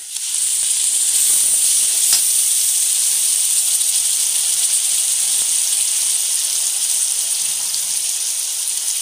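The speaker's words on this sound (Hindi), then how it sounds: "तड़का लाल होगा, इसमें डालते हैं मसाले।" Spices crackle and sizzle in hot oil for a tadka while cooking a cabbage sabzi, a steady, loud, bright hiss that runs unbroken throughout with no talking.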